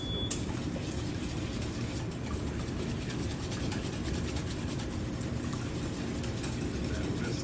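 Eggs are whisked for a potato frittata in a steady, continuous run of rapid clattering strokes, close and fairly loud, with no voices over it.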